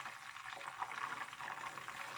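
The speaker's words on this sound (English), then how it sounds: "In fact, it is bubbling, but it's not boiling." Melting butter bubbles softly in a pan as ghee cooks, a faint, steady patter of tiny pops and fizzing with no one talking.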